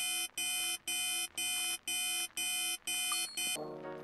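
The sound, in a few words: alarm clock ringing in the video game Dominique Pamplemousse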